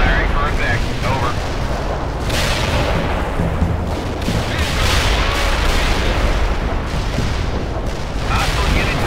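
Sustained artillery barrage from the video game World in Conflict, with loud, dense low booms and rumbling impacts rolling continuously close by, a burst of broadband blasts around the middle, and radio-style voices talking over the bombardment.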